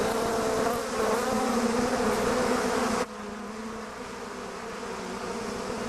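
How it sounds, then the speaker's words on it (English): A dense swarm of killer bees drones loudly and steadily, the buzzing dipping slightly partway through before continuing unbroken. "Killer bees are now a very real problem in the southern United States."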